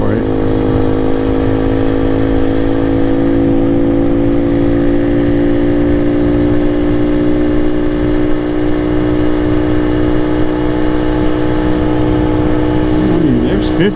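A modified Honda CT70 clone minibike engine droning steadily at a constant pitch as it rides downhill in fourth gear, loud and close, with a buzzy harmonic hum and wind rumble underneath.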